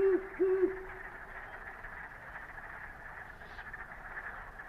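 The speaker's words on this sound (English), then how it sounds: "the one thing you're going to hear, of course, is the sound of the great horned owl, and it does sort of have a foghorn sound" A great horned owl gives a deep, foghorn-like hooting call, a couple of low hoots at the start followed by quiet background hiss, with no voices.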